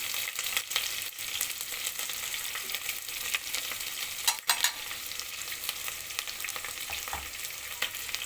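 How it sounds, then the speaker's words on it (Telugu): Onions and green chillies fry in a pan for khichdi, a continuous dense sizzle with a few clinks and stirring scrapes, fairly close and steady throughout with no talking. "ఇవి కొంచెం ఉడికిన తర్వాత ఈ ఉల్లిపాయలు వేసుకోవాలి. పచ్చిమిరపకాయలు,"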